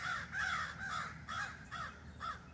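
Crows caw repeatedly outdoors near bird feeders, about five harsh agitated calls in an uneven rhythm, moderately distant and fairly quiet with no voices.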